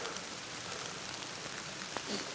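Steady rain patters on a woodland wildcamp in autumn, a constant close hiss with a few sharper drops landing nearby, no voices.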